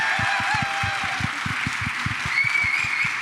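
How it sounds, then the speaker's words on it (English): Crowd applause at a live GCX main event stage in Orlando, a sustained dense roar of clapping with distinct loud hand claps pulsing near the microphone and some light laughter mixed in. "The other person I think needs the loudest round of applause you could possibly give to is"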